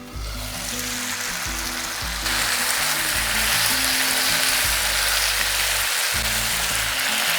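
Potato and ridge gourd frying in a pan over high flame, a steady loud sizzle with low rumbling hum beneath, growing slightly louder partway through, with no voices.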